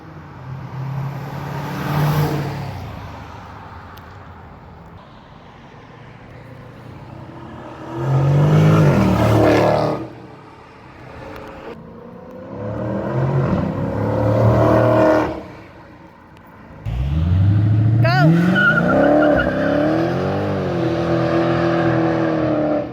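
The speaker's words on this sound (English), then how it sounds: "I'm going to get on it, I'm going to floor it, and then after that, we're going to try to do like a smoky burnout" Dodge Scat Pack Widebody on its stock exhaust, loud and close, revving in repeated bursts as it is floored and then held for a burnout with rising engine pitch.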